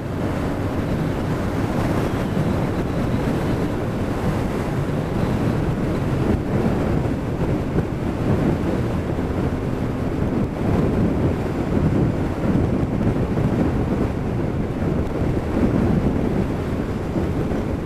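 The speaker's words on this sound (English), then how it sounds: "Definitely windy up here today." Strong wind buffets and roars continuously on high ground within sight of Blackpool Tower, a loud, rumbling gusting noise with no voices.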